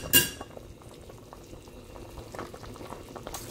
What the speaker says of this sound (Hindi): अब इस स्टेज पर जब पानी में उबाल आ जाए